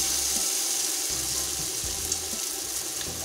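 Tap water runs in a steady, close hiss into a sink while hands are wetted for shaping urad dal pakoras, a continuous splashing stream with faint small knocks and no speech.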